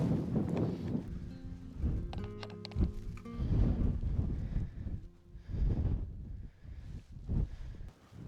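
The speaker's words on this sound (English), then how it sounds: "It's a little bit breezy" Wind buffets a microphone outdoors in the Peak District, a steady low rumbling roar that swells and eases in gusts, with occasional knocks and handling thumps close by and no talking.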